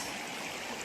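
A creek in Rocky Fork State Park flows with a steady, close rushing and gurgling wash, brief and unbroken, with no voices.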